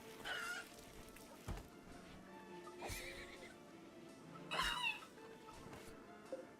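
Horses in a Rimworld colony give game whinnies, several short neighs spread across a faint, busy background, with soft clip-clop sounds and no talking.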